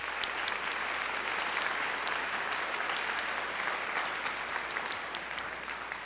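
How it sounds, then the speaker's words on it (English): Applause from the audience at a junior high school spring band concert: a steady, dense wash of many hands clapping together, sustained throughout at moderate loudness and fading slightly toward the end, with no voices over it. "If you could give them a round of applause."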